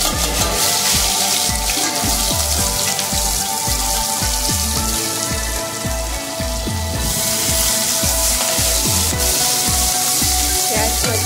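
Onions frying in hot oil for a gawar ki fali keema dish, a bright sustained sizzle over a repeating low rhythmic clatter, loud and close throughout with no talk.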